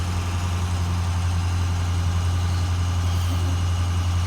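A truck engine idles steadily at low revs while building air pressure, a deep constant rumble with a strong low hum and faint vibration, no voices, unchanging throughout.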